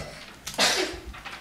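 A single sharp sneeze, close and loud, in a quiet indoor room, preceded by a short breathy intake.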